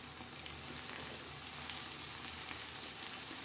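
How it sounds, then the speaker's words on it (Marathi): Fenugreek leaves sizzle in a hot frying pan as they cook with potato, giving a steady, soft crackling hiss throughout with no voices. "आता याच्यामध्ये थोडंसं आपण हे टाकूया, मेथीची भाजी टाकूया."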